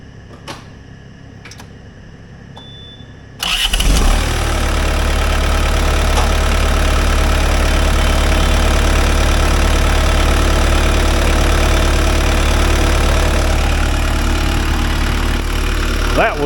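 A skid steer engine with a new starter turns over instantly after a few quiet seconds, then settles into a loud, steady, rumbling idle close by.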